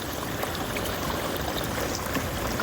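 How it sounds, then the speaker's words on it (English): Water runs down a gold-prospecting sluice box at a riverside mining gathering on the Yuba, a continuous close splashing trickle and rush with no voices. "This stuff here, just send down through the sluice."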